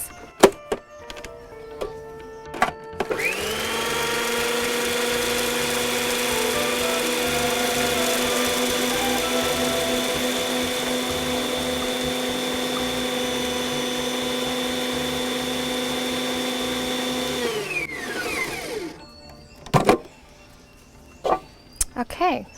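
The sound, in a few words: grinding almonds into a fine powder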